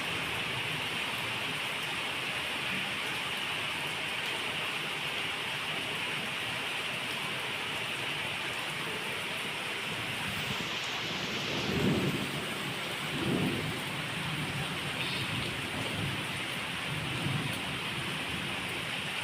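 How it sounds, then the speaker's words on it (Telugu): Steady rainfall hisses over surfaces during a storm in Hyderabad, with low thunder rumbling in a couple of distinct rolls midway through. "ఏమి వాన."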